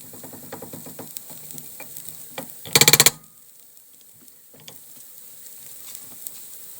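Flour-coated vegetables sizzle and rustle in a hot pan as they are tossed, with a brief loud burst of clattering and spitting midway, then quieter frying crackle with occasional small taps.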